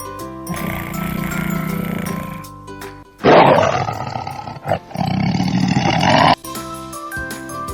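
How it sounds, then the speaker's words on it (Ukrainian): A tiger growls and roars in two long, loud, rough bursts, with a quieter rumble before them, over light chiming music. "Тигр гарчить."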